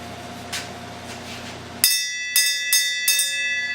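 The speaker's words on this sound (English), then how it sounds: "would you mind ringing the bell so I can quit yammering?" A bell rings out to close a Mr. Heavy Chevy car show, struck four times in quick succession with bright, ringing overtones that decay between strikes, loud and clear after a stretch of background hum.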